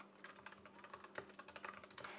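Rapid typing on a budget Temu mechanical keyboard: a dense, continuous run of sharp clacky keystrokes, close up and moderately quiet, with a faint electrical hum beneath.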